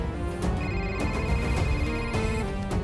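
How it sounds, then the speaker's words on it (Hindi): A phone rings with a repeating electronic ringtone, short bursts of melodic beeps pulsing at a steady rhythm, fairly close. "उसी का फोन आ रहा है सर।"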